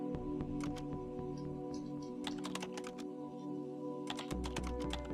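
Keyboard keys pressed in the game The Turing Test, bursts of quick clicking taps with pauses between them over a low steady hum.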